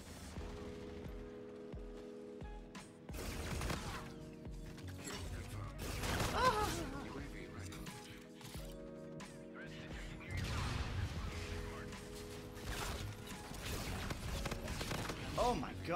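A scarab walker in a video game clanks and grinds mechanically, with ratcheting and creaking bursts that recur through the stretch under excited commentary from a player.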